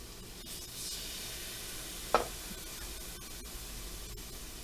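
Bread and bacon frying in a pan over medium-high heat, a quiet, steady sizzle throughout with one brief louder crackle partway through, with no one talking.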